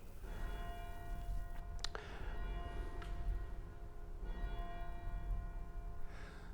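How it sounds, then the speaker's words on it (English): A church bell of St. Maria Lyskirchen in Cologne rings with sustained, ringing overtones; a few separate strikes a couple of seconds apart over a steady low background rumble. "There's the church bell."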